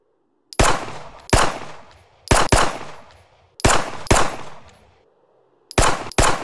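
Gunfire in the PractiSim VR shooting game on a USPSA practical shooting stage, with loud, sharp shots in quick pairs separated by short pauses, each ringing briefly, and no talking.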